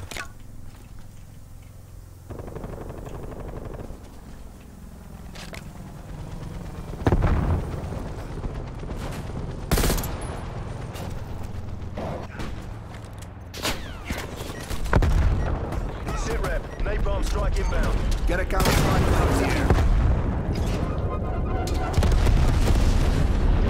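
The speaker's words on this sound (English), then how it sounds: "Somebody's shooting me." Gunfire and explosions in Call of Duty: Black Ops Cold War, with sharp shots and heavier booms scattered through a busy firefight, growing louder toward the end, and players talking over it.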